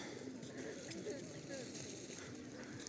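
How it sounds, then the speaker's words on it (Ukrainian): Soft pigeon coos drift in and out, low and murmuring, under a constant outdoor hum with faint voices nearby, on a street in Truskavets, Ukraine. "І знов голуби."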